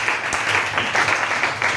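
Church congregation applauding during a French sermon, a steady wash of many hands clapping at moderate loudness with rhythmic swells, no talk over it.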